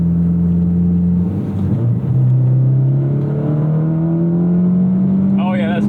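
A modified Subaru WRX STI or Mitsubishi Lancer Evo X with a louder aftermarket exhaust drones and revs steadily from inside the cabin, the engine pitch climbing continuously as it accelerates, loud and constant.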